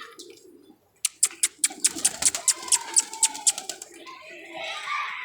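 A purebred pigeon lands nearby with a rapid series of sharp wing claps and flutters, followed by soft low cooing and faint background voices.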